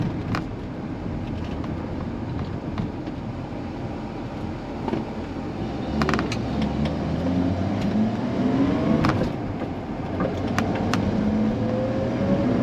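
A car engine runs smoothly in steady close-up hum, rising into a couple of gradual revs and easing back down, with no talk over it.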